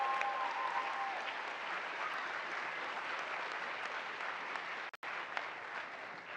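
Audience applause at an astronaut graduation ceremony, a steady, dense wash of clapping that fills the whole stretch with a brief dropout near the end.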